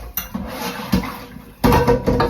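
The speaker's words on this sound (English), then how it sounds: "This is what I use to wash the utensils, my system." Utensils being scrubbed with scouring powder clatter and clink in short bursts, loud and close, with a wet, watery scraping between the knocks.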